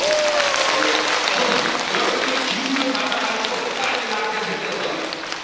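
Audience applause at a senior citizens' pumba folk performance in Yeongdeungpo, with dense clapping that fades slightly toward the end while a voice and crowd murmur continue over it.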